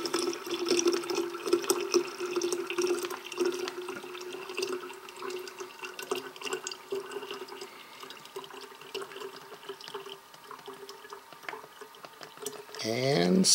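Thin stream of water trickling and flowing steadily through a Sawyer squeeze water filter, fairly faint and close, with a louder splashing burst at the very end.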